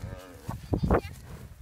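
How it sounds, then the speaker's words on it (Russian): Cows and heifers on a farm give a short, close moo, a low bellow rising and breaking in about a second, with no talking. "Там коровы, ребята."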